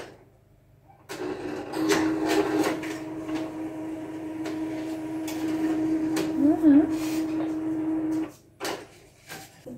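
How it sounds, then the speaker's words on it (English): A printer prints stickers in a small home studio, whirring steadily with a sustained motor tone for about seven seconds. Mechanical clicks and knocks cut in along the way, the hum stops abruptly, and a couple of short clunks follow. "Printer is acting up today. This is gonna take 10 hours."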